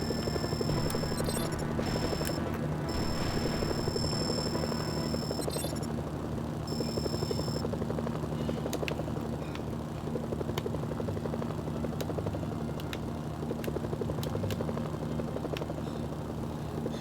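Helicopter in the video game Mercenaries: Playground of Destruction, its rotor and engine droning steadily and loud throughout, with game beeps early on and no talking.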